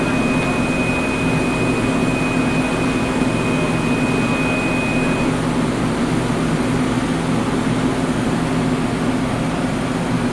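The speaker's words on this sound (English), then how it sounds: "Then we just press the button and machine will start to load the plate and later" A Lotem 400 platesetter loading and exposing a printing plate gives a loud, constant mechanical whir and drone close by, with a thin high whine that fades out midway.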